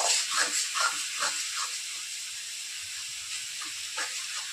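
Spices frying with potatoes and cauliflower in a pan, a steady bright sizzle and hiss that pulses slightly at first and then holds even, close and moderately loud with no talk.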